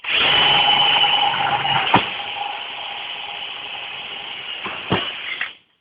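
A power drill runs steadily while boring a hole through an inflatable boat to mount a BixFish track, a continuous close whine with a couple of short bumps before it winds down.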